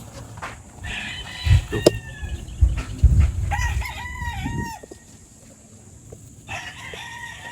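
An imported Grey gamefowl rooster crows loudly and close, giving a couple of drawn-out crows with quieter clucks and other fowl calls in between.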